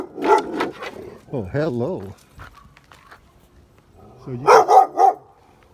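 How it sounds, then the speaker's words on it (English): A guard dog at a hilltop staircase barks in a few loud, sharp bursts, interleaved with a man's nearby speech and greeting, ending in a cluster of three quick barks. "And a guard dog."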